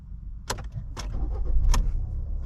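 A 2017 Ford Escape with a faulty canister purge valve starts and keeps running, a steady low engine rumble broken by a few sharp clicking rattles, close by with no talking.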